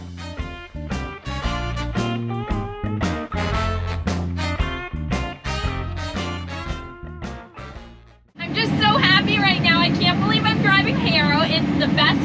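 A tractor harrowing a field on a Montana farm rumbles steadily beneath a person talking, then the engine note jumps louder and higher as the revs rise near the end.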